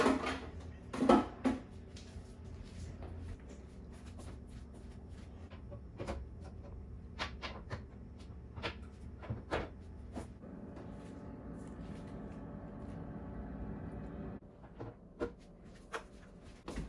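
Plastic shelves and drawers being pulled out of a refrigerator during cleaning, giving scattered close clunks, clicks and light scrapes over a steady low background hum, with no talking.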